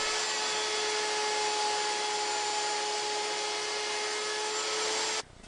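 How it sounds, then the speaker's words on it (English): A router with a 1/4 inch round-over bit cuts the bottom edges of wooden apron rails for a child's table, giving a loud, steady high-pitched whine that cuts off abruptly near the end. "Now routing the bottom edges of my apron rails with a 1/4 inch round-over router bit."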